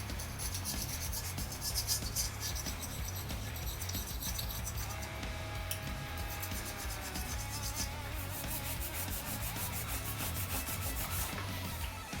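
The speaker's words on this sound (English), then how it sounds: "Carefully use a gasket scraper, scrape off that, use Scotch-Brite pad" Continuous scrubbing and scraping on an LS cylinder head's gasket surface using a gasket scraper and a Scotch-Brite pad, a steady close abrasive rubbing that runs the whole time with no talking.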